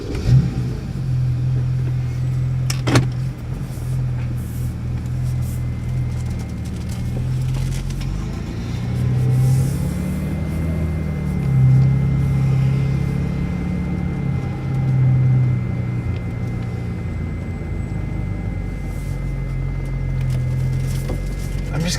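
A 2010 BMW 328i E90 with a muffler delete drives around a parking lot with the window down, its low exhaust drone rising and falling as it gently accelerates, with a sharp knock early on.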